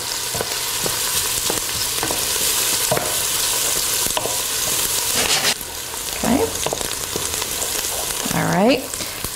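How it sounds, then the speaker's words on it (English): Onions sweating in a pan, a steady close sizzle that runs throughout, broken by occasional clicks and scrapes of stirring and a brief louder scrape near the end, with no talking. "I always like to make sure that the onions sweat out and they become nice and translucent, but not golden"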